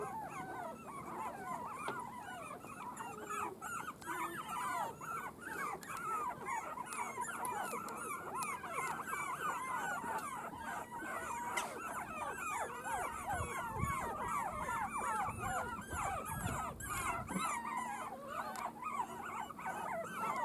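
Four-week-old puppies playing around a toy buggy, with continuous high whimpers, yips and squeals from several pups close by, moderately loud, with some scuffling and rolling underneath.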